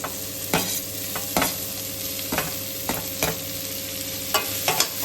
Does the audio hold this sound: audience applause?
no